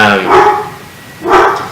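A loud dog gives two big barks about a second apart, close and prominent, inside a restored depot theater in Dodge City.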